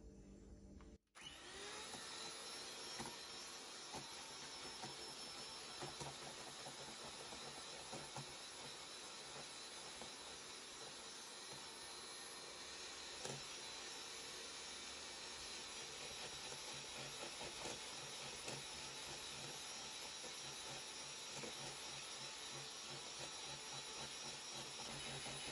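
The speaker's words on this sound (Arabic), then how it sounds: "بنخفق الدبل كريم على سرعة عالية." An electric hand mixer whips double cream at high speed, giving a steady, loud whirring drone that holds for the whole stretch after a brief start, with no voices.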